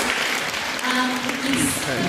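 Applause for fashion award nominees and winners at a fashion week event, a dense steady wash of clapping with crowd noise and some talk mixed in throughout.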